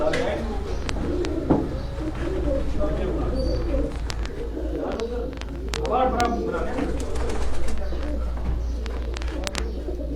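Pigeons cooing inside a net enclosure at a pigeon keeper's loft in Gujarat, with repeated soft coos and bird calls over a steady low hum and occasional voices in the background.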